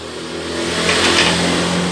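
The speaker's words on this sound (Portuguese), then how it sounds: "Então vamos ligar aqui a motocicleta." A 2014 Honda PCX 150 scooter engine running after starting, a loud, steady mid-pitched drone that swells slightly as it settles, close to the listener with no talking.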